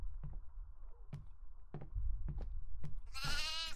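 A goat in the horror video game Devour lets out a quick, wavering bleat at the end, after several sharp clicks and thumps over a low droning background.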